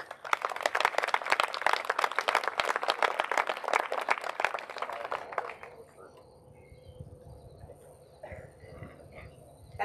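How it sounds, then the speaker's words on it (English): An outdoor Patriots Day remembrance crowd gives distinguished guests a round of applause, a brisk burst of clapping that fades out after about five seconds, leaving quiet open-air background with faint stray sounds. "Please give our distinguished guests a round of applause."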